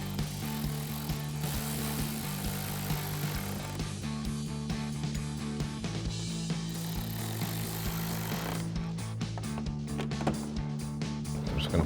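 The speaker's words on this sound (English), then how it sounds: "So we're gonna thread that in and take a 7mm socket," A 7mm socket tightening a screw while a rear diffuser is fitted to a 2024-2026 Mustang produces a rapid, buzzing mechanical rattle in close, continuous bursts with brief breaks, and no talking.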